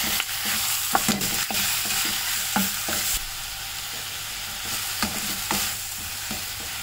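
Drumstick leaves sauté in a pan with a continuous close sizzle, broken by regular scraping and stirring strokes of a spatula, with no voices.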